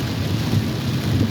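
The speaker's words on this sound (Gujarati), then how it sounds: "બધો ભયંકર વરસાદ છે" Heavy rain pouring at night beside a highway, a dense steady roar of downpour with a low rumbling undertone, brief and continuous with no talk.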